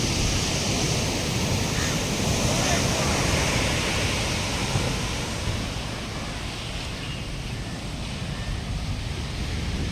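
Rough sea waves breaking on a beach in Alappuzha, Kerala, a steady loud wash of surf with no clear breaks, close and unbroken throughout.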